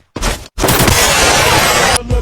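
Gunfire from the mobile shooter game Free Fire, played by a cousin: loud, dense bursts of shots and blasts filling the frame, broken by one brief silence near the start and a short drop toward the end.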